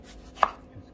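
Garlic is chopped on a cutting board: a single close, sharp knife knock against the board, brief and alone over faint background noise.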